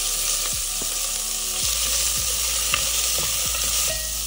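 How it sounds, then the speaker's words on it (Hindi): Cumin seeds and chopped onion fry in hot oil for rajma khichdi, a constant close sizzle broken by repeated scraping stirs of a spoon against the pan. "इसके अंदर हम डालेंगे सबसे पहले जीरा, नेक्स्ट प्याज"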